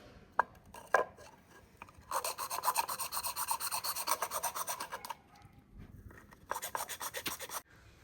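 Thick coconut shell is cut by hand with rapid back-and-forth rasping strokes, in long sustained bursts separated by short pauses and a few knocks, close and fairly quiet.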